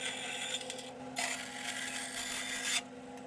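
A saw cuts through brass rod about an inch from the bottom, giving a dry, scratchy rasp: softer strokes at first, then a louder sustained stretch of cutting that stops abruptly.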